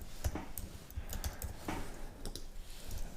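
Keystrokes on a computer keyboard tapping at an irregular pace during a graphic design session, close and moderately quiet over a faint background hiss.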